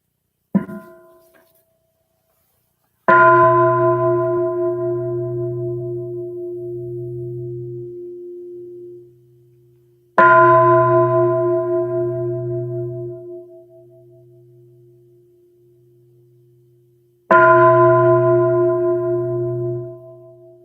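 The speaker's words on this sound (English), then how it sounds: "so we will begin with 3 sounds of the bell" A meditation bell struck three times at slow, even intervals, each strike ringing out clear and loud before fading through a long shimmering decay into silence.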